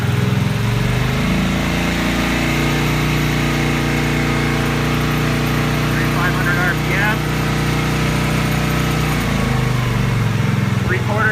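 A cold Kawasaki VN750 motorcycle engine runs on full choke after a cold start, with a loud, steady, close low rumble and fast idle throughout, and a voice briefly speaking over it.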